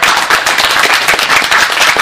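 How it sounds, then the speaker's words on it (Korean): Audience at a Korean civic network founding assembly clapping: dense, loud, steady applause from a crowd, close and continuous throughout. "여러분 박수 한번 쳐주세요"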